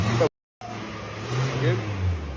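A car engine running rough after a bad oil change, idling and revving unevenly with a loud, continuous low drone, briefly cutting out before resuming, while voices talk over it.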